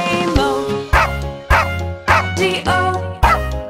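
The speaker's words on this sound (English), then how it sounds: "There was a farmer, had a dog, and Bingo was his name-o" Cartoon dog barking in a children's nursery rhyme song, five or six sharp, evenly spaced barks set to the beat over bouncy music, close and loud.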